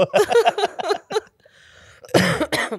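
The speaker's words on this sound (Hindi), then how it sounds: "देखो खांसी कर रही हूँ" Someone talks briefly, pauses, then gives a loud, harsh cough close to the microphone.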